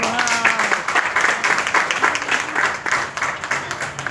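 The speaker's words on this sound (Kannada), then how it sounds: "ಜೋರಾಗಿ ಚಪ್ಪಾಳೆ ಬರಬೇಕು" An audience applauds at a spirulina product demonstration with dense, sustained clapping at a fairly close distance, while a voice speaks briefly at the start.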